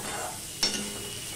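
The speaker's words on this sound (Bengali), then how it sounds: "দেখো বন্ধুরা, ঝিঙেটা অনেকটাই ভাজা হয়ে গেছে" Ridge gourd fries in a pan with a soft, steady sizzle, broken by a single sharp utensil click partway through, quiet and close.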